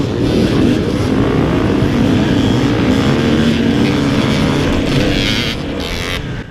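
A KTM 300 two-stroke dirt bike roars loud and close as it launches off the start line of a mountain hare scramble race, a steady high-revving engine drone that holds strong for several seconds before easing slightly.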